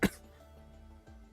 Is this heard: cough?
yes